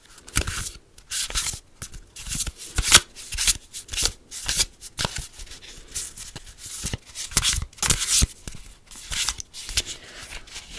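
Rapid, crisp riffling and shuffling of a card deck, repeated in bursts with brief pauses, close and clear with no voices.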